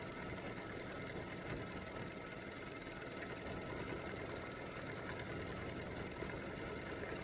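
A home embroidery machine stitches freestanding lace Halloween spider earrings, giving a steady, continuous mechanical whir with a dense rapid stitching chatter, close and even throughout with no voices.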